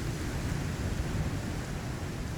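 Steady, broadband rain-like hiss and low rumble of a storm in the video game Icarus, constant and fairly quiet throughout with no distinct events.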